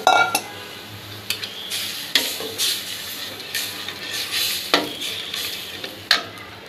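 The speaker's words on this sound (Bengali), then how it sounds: "আমাদের মশলা কষানো হয়ে গেছে, এখন আমরা নারকেলের দুধটা দিয়ে দেব।" Coconut milk goes into a pan of sizzling shrimp curry masala with tomato paste, bringing close sizzling and a run of sharp metallic clanks and scrapes as a spoon stirs against the pot.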